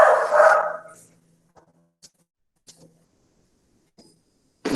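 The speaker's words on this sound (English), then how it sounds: "It's a fat, small beagle that actually gets very mad when the walker comes." A small, overweight beagle barking at the dog walker: one loud bark burst at the start, then a few faint scattered yips and noises, and another bark cut off at the end.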